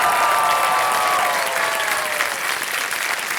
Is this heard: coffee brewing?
no